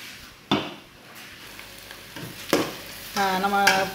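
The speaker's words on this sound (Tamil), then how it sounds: "இந்த பாருங்கள் நல்லா வதங்கிட்டுருக்கு" Beetroot sautéing in a pan: a soft sizzle broken by several sharp scrapes and clatters of a spoon stirring, with a brief squeaky tonal sound near the end.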